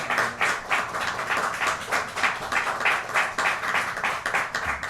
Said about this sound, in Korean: 우리 전달할 때 한 번 더 박수해 주시겠습니다.